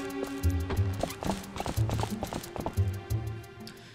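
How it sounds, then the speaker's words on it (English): Horse hooves clip-clop in The Legend of Zelda: Twilight Princess, with steady rhythmic hoof beats under game music and effects. "Can I take my horse now?"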